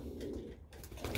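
Pigeons in a loft coo softly, a low murmuring burble with a steady background hum and no talking.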